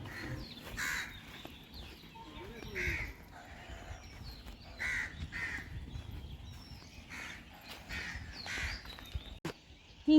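Crows cawing at Indroda nature park in Gandhinagar, Gujarat, repeated harsh caws from several birds in irregular bursts, fairly close and clear over a quiet outdoor background.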